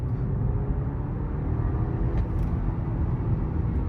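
Inside a BMW G30 with a 1.6 engine accelerating at half throttle, a low, steady cabin rumble of engine and road noise holds evenly throughout, fairly quiet and without speech.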